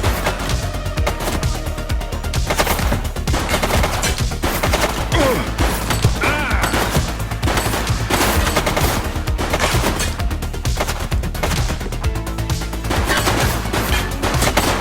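Dense, loud gunfire in the police game The Precinct on PS5 during a bank robbery, rapid rattling shots crowding the whole stretch with barely any pause.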